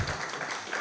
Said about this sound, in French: vous pouvez applaudir également Francesco